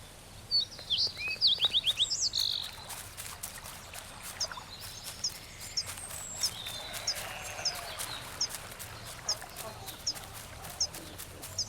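Birds chirp and twitter in short bright bursts in the video game The Last Campfire, a flurry of calls early on followed by scattered faint tweets over a soft trickling forest ambience.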